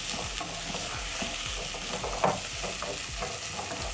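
Medium carrots stirred into a pot for a one-pot beef and rice dish, a steady frying sizzle with repeated spoon scrapes and a sharper clatter partway through, close and continuous with no talking.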